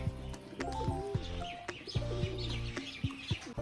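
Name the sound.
pigeon cooing courtship display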